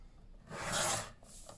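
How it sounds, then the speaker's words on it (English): A large paper trimmer slices a thin strip off a scrapbook cover, giving a single quick, close swish of about half a second, then a faint scrape. "Getting my big paper trimmer in here."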